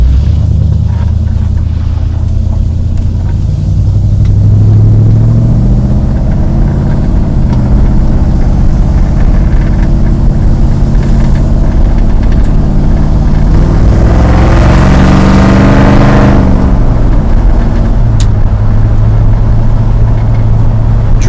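A 1973 Dodge Swinger engine runs loud and close on a driveway test drive, a continuous deep rumble with a brief rising rev near the middle before settling back to a steady idle-like drone.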